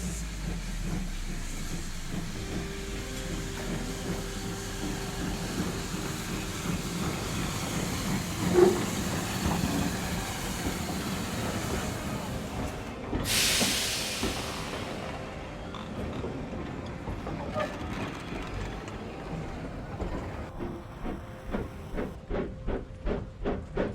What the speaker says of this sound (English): the last train ran to Turnchapel